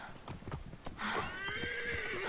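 Horse in Assassin's Creed Origins gives a loud, drawn-out neigh after a second of clopping hoof steps, the whinny holding steady to the end.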